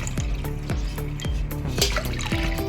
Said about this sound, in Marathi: त्यात आता मी हे पाणी सोडणार आहे